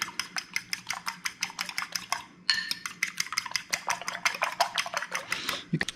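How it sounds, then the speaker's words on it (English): Four eggs being whisked in a bowl with a utensil, a rapid run of close, loud clinking beats with a brief pause midway before the beating resumes steadily. "we are gonna scramble the eggs"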